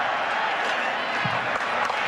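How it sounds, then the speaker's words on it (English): A raucous college football stadium crowd roars at kickoff for Penn State at Wisconsin, a dense, sustained wash of cheering and applause under a commentator's voice. "it's hard to figure as raucous as this crowd can get"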